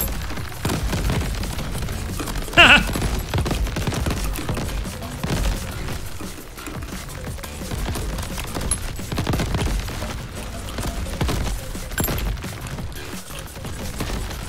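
Rapid video-game weapon fire from a laser cannon in Crab Champions, a dense continuous barrage of bursts and thumps running throughout, with one sharper, louder zap near the start.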